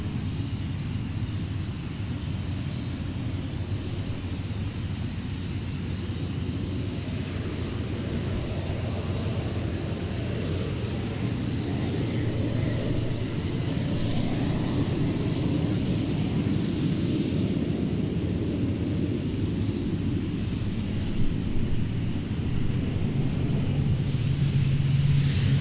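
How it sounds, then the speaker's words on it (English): A Pilatus PC-12 turboprop takes off at an airshow, a steady distant rumbling roar that swells gradually, with faint crowd and wind noise around it. "Looks like the PC-12's going."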